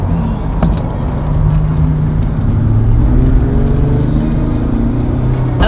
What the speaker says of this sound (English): This traffic is so intense.